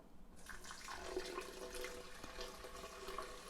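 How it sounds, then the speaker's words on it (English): Two cups of filtered water are poured for homemade hemp milk, a steady close splashing and trickling pour with broadband hiss running for several seconds, no talking. "And then I'm going to add 2 cups of filtered water."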